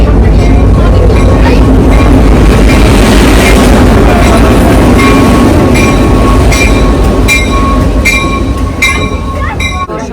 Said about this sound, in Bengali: আমাদের ট্রেনের ইঞ্জিনটি এখন এটি যাচ্ছে একদম সেই লাস্টের কামরায়